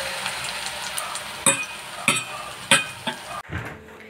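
Potato and semolina snacks fry in a pan with a steady sizzle, while utensils stir and tap at the pan several times before a sharp clunk near the end.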